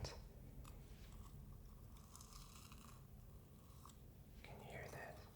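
Close, quiet crunching and chewing of a crunchy Swiss chocolate spread, similar to Nutella but with a cornflake-like crunch. Several soft bites sound near the mic, with faint whispery breaths between them.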